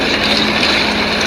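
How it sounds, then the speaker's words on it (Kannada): A small airplane in the video game Dude Theft Wars drones with a steady, loud propeller engine hum, unbroken and close throughout. "ಅಲ್ಲಿಗ ಸಣ್ಣದು ಏರೋಪ್ಲೇನ್ ಅದು."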